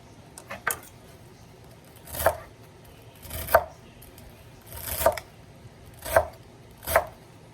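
A knife chops parsley on a cutting board in scattered single strikes, then a series of evenly spaced, crisp thuds, close by.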